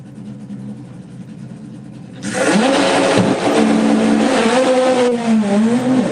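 A Beetle street car launches on a drag strip at a Run What Ya Brung event, its engine jumping abruptly from a low idle to a loud, sustained, rising roar as it accelerates hard, with revs climbing and shifting.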